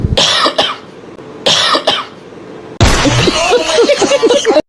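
Two short bursts of coughing from one person, each a sharp hoarse cough followed by a second, separated by a pause, then a louder stretch of busy voices and clatter takes over.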